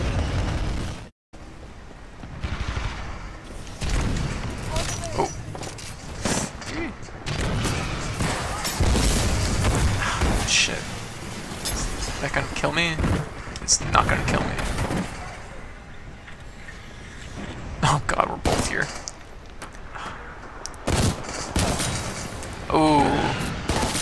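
Rapid bursts and heavy blasts of gunfire in online Titanfall 2 multiplayer keep erupting in dense, uneven clusters, with a brief silent gap near the start and voices talking now and then.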